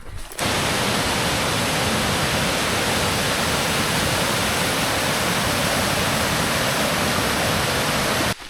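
A loud, steady roar of rushing water from a nearby waterfall on the Foothills Trail, continuous and unbroken, starting and stopping abruptly at the edges.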